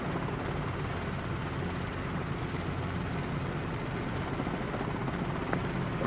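A steady helicopter drone in Microsoft Flight Simulator 2020 with a continuous whirring rotor hum, unchanging in loudness throughout, no talking.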